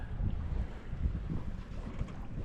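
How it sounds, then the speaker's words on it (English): Sailboat running with the wind dead astern on the open water between Beaver Island and Mackinac Island, with a steady low rush of wind and water and some wind buffeting on the microphone, no talk. "Well, lazily sailing along. The wind has veered a little bit."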